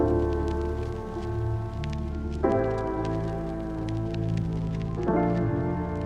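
A hip-hop beat carrying a siren sound effect, with sustained synthetic tones that jump up and down in stepped pitch over a steady low thump. The music plays alone.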